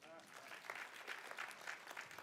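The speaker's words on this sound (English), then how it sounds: "please clap for Vanessa" Audience applause at an administrative services staff presentation, a brief, modest round of clapping from a small room crowd, with a voice speaking over it.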